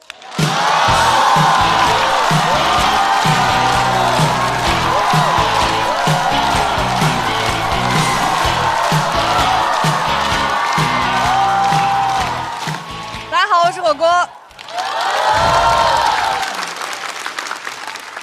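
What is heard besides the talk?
audience cheering and applause at stand-up comedy show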